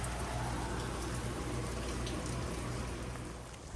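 Steady rain hiss fills a Florida Trail thru-hike stop, a dense even patter close around with no gaps, no voices.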